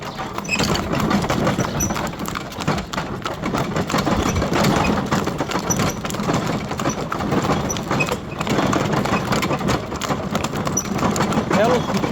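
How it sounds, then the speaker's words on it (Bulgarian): Horse hooves clip-clop steadily through a village ride in Sotirya, Bulgaria, a continuous rhythmic clatter running the whole time with a low engine-like rumble and voices mixed in. "Хубава разходка с кон."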